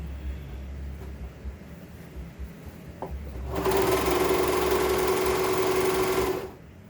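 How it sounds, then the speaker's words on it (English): A FAF cover lock 4862 serger runs a standard 4-thread overlock stitch, whirring steadily and loudly for about three seconds after a quiet lead-in. "I'm using a FAF serger. It's a FAF cover lock. 4862. The stitch we're using is your standard 4-thread overlock."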